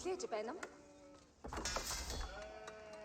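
Sheep bleat in Age of Empires 4 gameplay, a few short wavering bleats near the start, then a louder burst of mixed game effects and background music that continues steadily.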